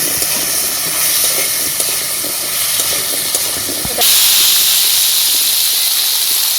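Vegetables such as potato and eggplant fry in hot, darkened oil for a river-fish curry, a loud continuous hiss and sizzle that suddenly surges brighter and louder partway through.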